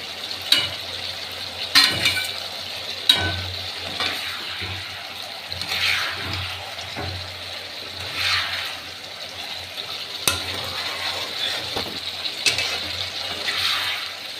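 Small mola carplet fish being mixed into boiled chilli masala in a pan, giving soft, wet stirring and gentle sizzling, with faint scraping knocks over a steady low background hum and no talking.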